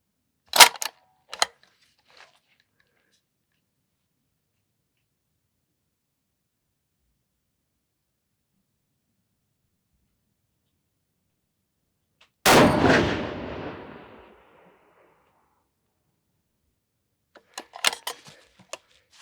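Loud 7mm PRC rifle shots at an outdoor range on a Defiance Anti-X long action build: two sharp reports near the start, one big blast with a long decaying echo mid-clip, and another burst of cracks at the end, separated by silence.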